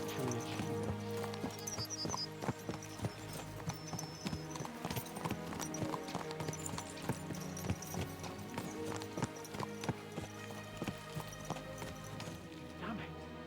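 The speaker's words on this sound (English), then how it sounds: "Really spur these horses on" Horses galloping in the game Kingdom Come 2, their hooves clip-clopping in a steady, rapid rhythm over continuous music and ambient game sound, with an occasional whinny.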